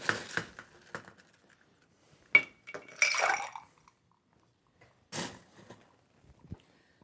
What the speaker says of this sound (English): So now all we need to do is ice up our shaker.